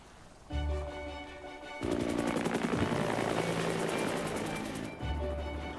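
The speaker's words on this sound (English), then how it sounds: "I've decided to see it from the sky with the help of a helicopter" A helicopter's rotor beats in a loud, rapid chopping rhythm with a roaring engine over Niagara Falls, Ontario, close by and sustained, briefly easing before picking back up.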